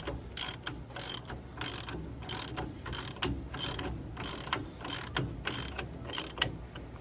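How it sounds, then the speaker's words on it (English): A hand ratchet tightens the rear hub axle nut on a 1999 Ram 2500 3/4-ton truck, giving a close, loud series of rapid clicking bursts in an uneven rhythm with short pauses between strokes. "And we're gonna tighten this down."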